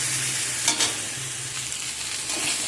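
Potatoes fry in oil while being stirred, a continuous close sizzle with a couple of brief scraping stir strokes, moderately loud and without any voices.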